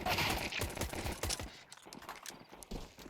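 Gunfire crackles in a competitive shooter video game during an ESL Challenger League match, first as a dense rapid volley, then thinning into scattered shots over about three seconds.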